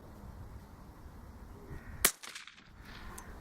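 A single sharp rifle shot fired through a Hushpower Bobkat moderator cracks out once, brief and loud over quiet outdoor background noise, followed by a short decay.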